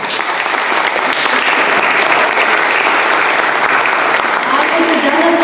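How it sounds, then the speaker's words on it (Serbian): Sustained, dense audience applause fills a hall after a call for support of a proposed gala concert, steady and loud throughout with no pause. "molim vas jedan veliki aplauz"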